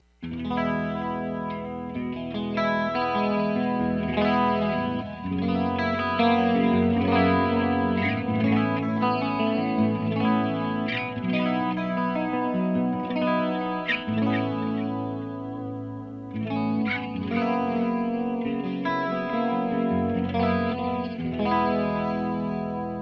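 Clean electric guitar through a Quilter Overdrive 202 amp rings out with a shimmering Julia chorus and trailing Flashback 2 delay repeats, chords and single notes played warmly and up close, no talking.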